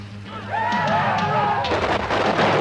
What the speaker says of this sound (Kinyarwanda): amasasu mu birere